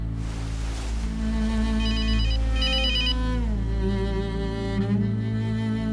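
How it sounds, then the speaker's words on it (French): A telephone rings continuously with a warbling electronic ringtone, steady and fairly loud, its melodic tones repeating over a low background hum with no one speaking. "Répondez à votre téléphone."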